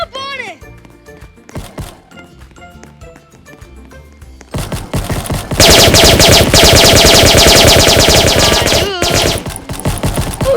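Rapid gunfire from a Roblox game bursts loud and sustained for several seconds, after a quieter stretch of scattered game sounds and someone talking over it.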